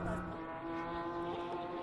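BMW M race cars from the M Performance Parts Racing Series stream past at Phakisa circuit in 2023, their engines a dense, continuous roar with overlapping tones and no clear gaps between cars.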